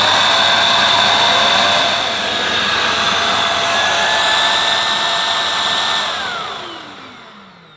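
Beldray Airglide bagless vacuum cleaner running with its pet hair turbo brush fitted, a loud steady motor whine and airflow roar that shifts pitch slightly before spinning down at the end.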